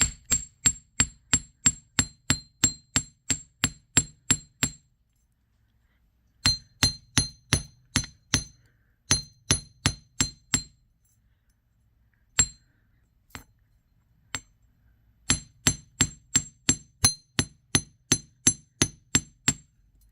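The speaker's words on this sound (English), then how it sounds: "put that on and just start hammering it." Sharp metallic taps of a hammer on jewelry wire for earrings, fast even runs of about a dozen blows broken by pauses and a few lone strikes, close and clear with no talk.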